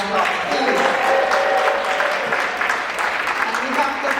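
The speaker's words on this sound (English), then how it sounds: "Let's give them another round of applause, please." An audience at a Jamaican Heritage Month celebration in the US gives another round of applause, a loud, continuous wash of clapping filling the whole stretch with a murmur of crowd noise mixed in.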